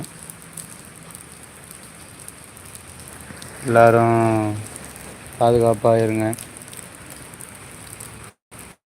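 Heavy northeast monsoon rain falls at night in Chennai, a constant dense hiss of downpour running throughout beneath a voice speaking in short bursts, the sound cutting off abruptly at the end.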